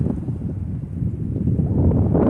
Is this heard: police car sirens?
no